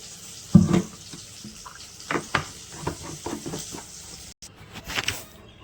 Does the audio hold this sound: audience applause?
no